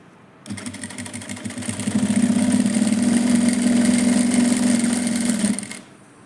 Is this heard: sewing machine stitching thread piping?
yes